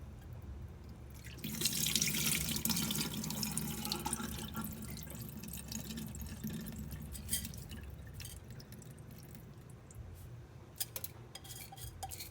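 Rice for rice porridge is rinsed in water: tap water splashes and swirls in a pot or bowl, with sloshing, dripping and light clinks of the container, loudest early on then settling into quieter stirring and drips.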